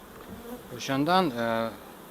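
A close honeybee buzz near a hive in Samarkand swells and wavers in pitch for about a second, then fades, over low background noise.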